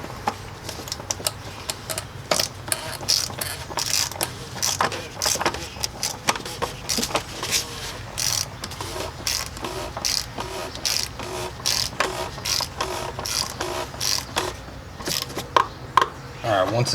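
A ratchet clicks in quick, uneven bursts while tightening a part back down during an oil change on a Kia Sorento, close and fairly quiet, with a person talking between the clicks.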